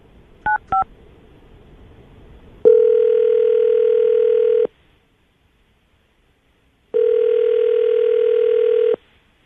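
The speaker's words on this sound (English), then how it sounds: "I'm going to call her right now" A telephone call is placed: two quick dial beeps, then two long steady ringback tones separated by a pause, clear and loud on a quiet line.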